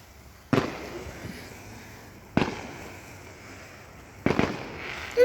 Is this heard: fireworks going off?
yes